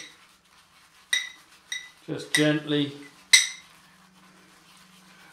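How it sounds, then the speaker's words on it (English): A shaving brush knocks against the sides of a shaving bowl while working up lather, giving a few sharp clinks and a quick rattling clatter, with a brief spoken remark between the knocks. "Sorry about the banging against the sides, but that's what you get when you've got shaving bowls."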